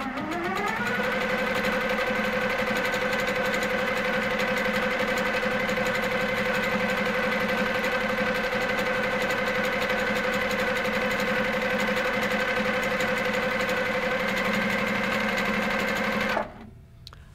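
A sewing machine running steadily while free-motion quilting teardrop shapes, a continuous close, even whirring hum with a fast stitching rhythm that holds for about sixteen seconds before stopping abruptly.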